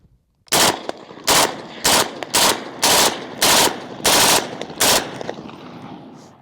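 Controlled bursts from an HK G3 machine gun fed from an old 1965 magazine: about eight sharp, loud bursts of automatic fire in an irregular rhythm, each a short roaring rattle, with ringing echo between them and no talking.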